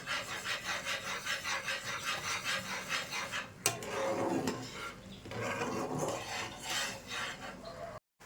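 A sandesh mixture is stirred continuously in a pan, giving a steady rhythmic scraping and rubbing that repeats throughout, close and fairly loud, with a brief sharper knock partway through and no talk.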